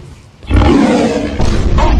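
A loud lion roar sound effect blasts in after a brief quiet start, one sustained deep growling roar that swells and holds to the end.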